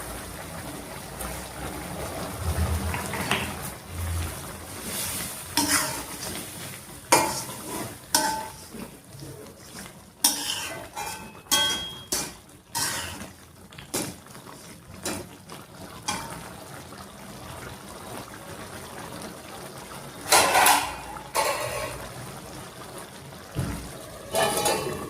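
Tripe curry (boti gojju) simmering in a pot while being stirred, with repeated scraping and clinking of a ladle against the metal and soft bubbling liquid underneath, close and fairly loud, no voices.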